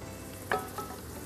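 Onions sautéing in a pot for a mushroom pasta sauce, a soft steady sizzle with a brief sharp scrape or stir at mid-point and a fainter one shortly after, close and quiet.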